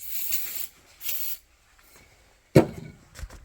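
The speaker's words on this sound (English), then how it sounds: "Let me spray a little stuff in there" Two short hissing bursts of aerosol spray into the engine of a Triumph TR4, close by, followed by a sharp knock and some faint clatter.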